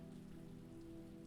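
Rain falling outside a Viking longhouse, a soft, even patter that stays very faint and continuous with no other sounds.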